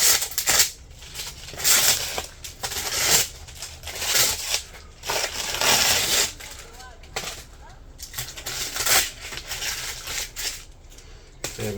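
Masking tape peeled off a freshly spray-painted hot rod wheel: repeated sharp ripping strips in bursts, close and fairly loud, with someone talking intermittently between pulls.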